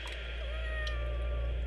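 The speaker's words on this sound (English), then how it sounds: "As I went down the stairs, the cat, following me as always" A cat in a dramatized reading of Poe's The Black Cat gives a faint, drawn-out meow over a steady low background drone, with no voice over it.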